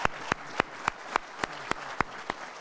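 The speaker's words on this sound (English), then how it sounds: "just a round of applause to Gordon and Maureen for their vision," Applause at a young entrepreneur awards ceremony: about ten sharp, evenly spaced claps in a steady rhythm, fairly close and moderately loud, with no talking.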